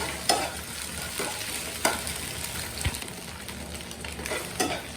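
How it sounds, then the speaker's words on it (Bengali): Egg sizzles steadily in a hot pan while a utensil stirs and scrapes it, with soft clinks of metal against the pan throughout. "আমার ডিমটা ঘুরে ঘুরে করা হয়ে গেছে।"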